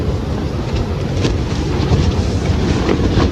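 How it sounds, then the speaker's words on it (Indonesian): Strong wind storm roaring around a tent at a mountain campsite at night, a steady loud broadband rush with gusts and flapping fabric, no voices. "Aku pun terbangun karena suara deru angin dan variasi tenda yang mulai mengapak-apak seperti mau terbang."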